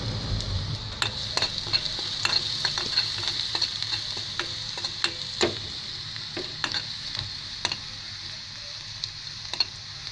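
Curry leaves sizzle in hot coconut oil in a pan, with a steady frying crackle and frequent stirring clicks of a spoon against the pan.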